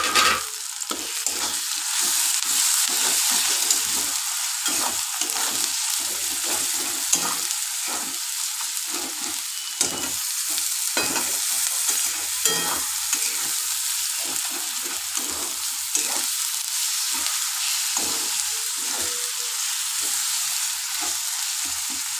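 Ginger garlic paste sizzles and fries in a pan for chicken curry, with a steady bright crackle and repeated scraping stirs of a spatula, close and continuous with no talking.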